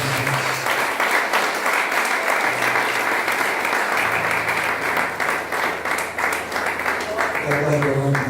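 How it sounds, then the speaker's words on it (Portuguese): A church congregation applauding during an evening worship service, with sustained, loud clapping from a crowd and a low sustained tone underneath, continuing evenly for several seconds. "Você pode aplaudir ao Senhor nessa noite."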